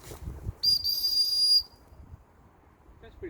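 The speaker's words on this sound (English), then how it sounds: "No, it's an emergency whistle" An emergency whistle built into a survival shovel's ferrocerium rod handle is blown once, a loud, piercing shrill blast lasting about a second, with quiet voices before and after.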